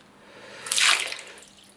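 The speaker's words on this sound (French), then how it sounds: "Ah, ça éclabousse partout." A short burst of water splashing over an industrial PC during a waterproofing test swells up and fades within about a second, over a faint background hum.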